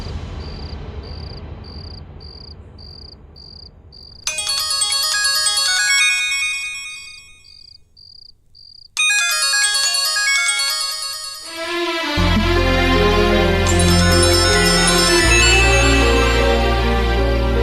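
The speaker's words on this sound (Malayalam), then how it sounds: "ഫോൺ ബെല്ലടിച്ച് തീരാറായിട്ടും എടുക്കാതിരുന്നപ്പോ" A mobile phone ringtone repeats a steady chirping tone, then cuts to a brighter melodic ring; a low, fuller musical passage with a deep bass pulse follows near the end. No one speaks.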